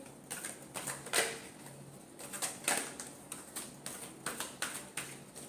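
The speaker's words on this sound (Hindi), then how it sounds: "Last shuffle." Tarot cards being shuffled by hand, heard as a run of soft, crisp riffling clicks and flutters in irregular bursts, close by and fairly quiet, with no talking.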